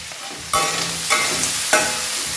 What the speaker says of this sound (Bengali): এদিকে আমাদের চিংড়িটাও ভাজা হয়ে এসছে